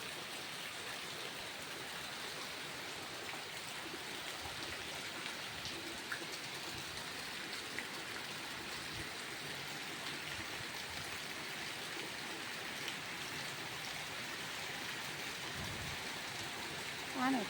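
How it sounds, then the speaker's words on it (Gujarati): Heavy monsoon rain pours down without a break, a dense, even roar of drops hitting the ground and surfaces with running water beneath it, loud and close from start to finish. "જોરદાર મેં પડે."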